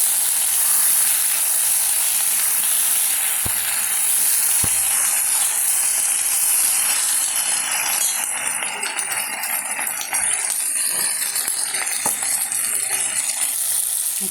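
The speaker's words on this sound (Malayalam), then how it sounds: "വീണ്ടും വഴറ്റി കൊടുക്കാം." Sardine and raw mango curry sautéing in a pan gives a steady, fairly loud sizzle and hiss throughout, with a couple of faint clinks of a utensil against the pan.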